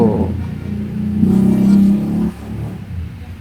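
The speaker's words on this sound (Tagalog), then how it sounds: "Ingay tambutso. Ingay tambutso now." A vehicle with a noisy exhaust pipe is revved, its deep engine rumble rising to a throaty peak, holding briefly, then dropping back to a low idle, heard up close.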